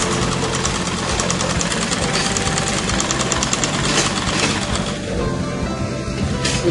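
A sewing machine stitches darts on a basic skirt, a loud, close, continuous mechanical whir with a fast rhythmic chatter throughout.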